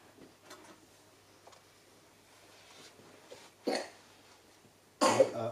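A sharp, noisy sneeze bursts out near the end, after a shorter puff of breath, in an otherwise quiet room.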